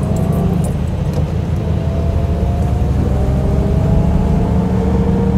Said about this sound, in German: diesen tollen Sound der amerikanischen Chevy-Maschine